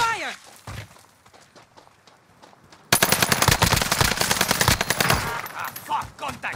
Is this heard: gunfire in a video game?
yes